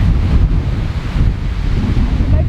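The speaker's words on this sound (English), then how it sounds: "it is really windy up here" Strong gusting wind from a windstorm buffets the microphone on a high, exposed spot, a steady loud roar with rising and falling surges throughout and no voices.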